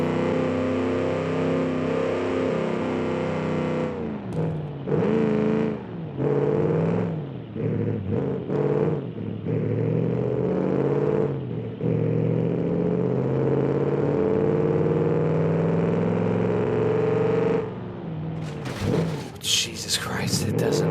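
A car's engine droning and revving while driving in the BeamNG video game, a strained, buzzing tone rising and falling over twenty seconds with someone talking over it throughout.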